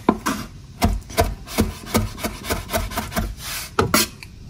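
A kitchen knife finely chopping garlic and parsley on a wooden board, with quick irregular taps and scraping rubs close up, no talking.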